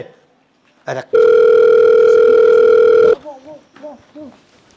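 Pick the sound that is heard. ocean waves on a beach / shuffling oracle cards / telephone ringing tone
telephone ringing tone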